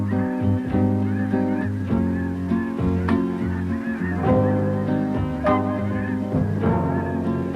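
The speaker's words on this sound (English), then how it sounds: "These are snow geese" A large flock of snow geese honks continuously, many overlapping nasal calls forming a dense, clamorous chorus.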